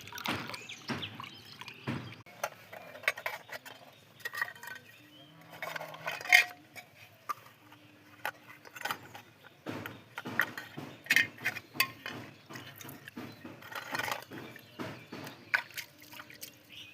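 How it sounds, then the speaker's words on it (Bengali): Small cooking pots and pans being washed outdoors near a garden, with close water drips, splashes and the occasional metallic clank coming in irregular bursts at moderate loudness. "সেই হাঁড়ি পাতিলগুলা এখন এখানে ধুইবো"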